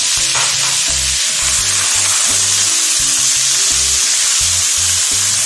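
Steady loud sizzling as chicken fries with browned onion and garlic in a pan, with intermittent low knocks and scrapes like stirring.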